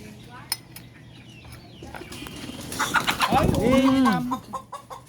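A chicken clucks and squawks nearby, with a rising burst of fowl calls in the middle, over faint background noise and a soft voice.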